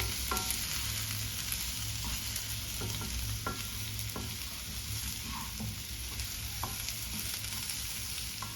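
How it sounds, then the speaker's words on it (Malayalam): Fried potatoes and cauliflower being mixed in a hot pan for a dry aloo gobi curry: a steady sizzle with scattered scraping stir strokes, close and continuous for the whole stretch, no talking. "ഇനി ഇതൊന്ന് നന്നായിട്ടൊന്ന് മിക്സ് ചെയ്യാം"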